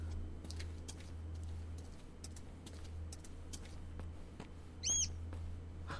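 Brief bird chirp in the Silent Hill: Downpour video game, a short rising call near the five-second mark over a steady low ambient hum with scattered faint ticks.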